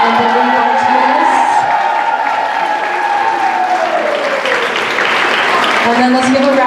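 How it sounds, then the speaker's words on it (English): An audience at a high school choir spring concert claps steadily and loudly for the instrumentalists, a dense wash of applause with some cheers and voices mixed in. "can we give a round of applause to our instrumentalists, Mr. Fullerman and Beverly Martinez"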